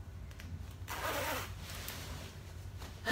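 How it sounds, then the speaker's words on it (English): A zipper is drawn up on a vintage Chanel jacket, one clear zipping stroke near the start followed by quieter fabric handling and a louder rustle at the end. "let's zip it up"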